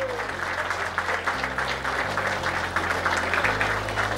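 Audience at a Diwali diary distribution event breaks into loud, sustained applause, dense clapping from a crowd filling the whole stretch without letting up.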